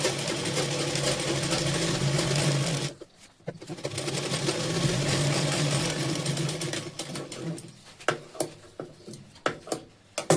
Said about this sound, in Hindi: बेल्ट के ऊपर एक सिलाई लगा लेंगे ताकि हमारा जो बेल्ट है अच्छे से बैठ जाए